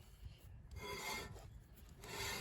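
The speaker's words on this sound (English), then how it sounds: "It's gonna scrub all that rust on it" Rust being scrubbed off the brake parts of a 2007 Ford Edge during a brake pad change: close, steady rasping strokes with short pauses between passes, heard alone.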